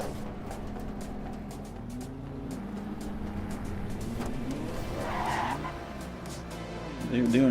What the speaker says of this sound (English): They were doing a ceremony burnout for the podium position.